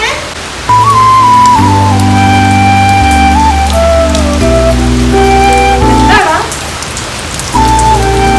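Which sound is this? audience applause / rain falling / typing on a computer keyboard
rain falling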